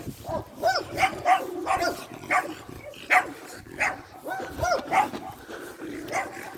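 Several dogs bark repeatedly at close to mid range, sharp barks and yips overlapping in an uneven rhythm, with faint voices underneath.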